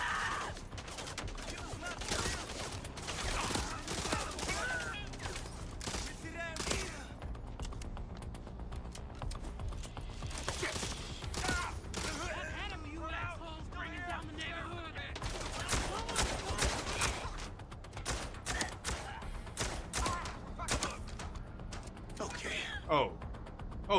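Rapid video game gunfire fills a shooting-gallery fight in bursts of dense, clattering shots, with someone talking over much of it.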